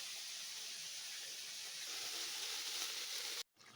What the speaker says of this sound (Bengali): চিংড়ি মাছটা একটু ভালো করে ভেজে নিয়ে তারপরে পটল চিংড়িটা করব